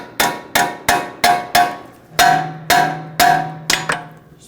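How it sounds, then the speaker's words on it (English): A small hammer taps a tie rod loose from the steering knuckle on a 2006–2009 Audi S4, with nine sharp metallic strikes in an uneven rhythm, loud and close, each one ringing briefly. "If you need to, you can just use a little hammer, give it a tap"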